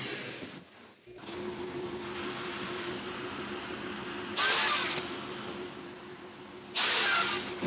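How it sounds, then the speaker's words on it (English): A biscuit joiner set at 45 degrees whines steadily at a constant pitch, with two short, louder bursts of cutting into wood for a kitchen cabinet base box near the end. "I set the biscuit machine, biscuit joiner at 45"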